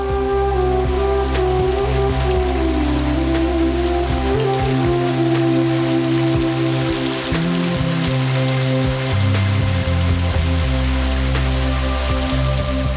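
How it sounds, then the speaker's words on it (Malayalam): Heavy monsoon rain falls steadily, a loud continuous wash heard alongside a low, sustained tonal hum and some irregular thumps. "തോരാ മഴ പെയ്യുന്ന കർക്കടകം"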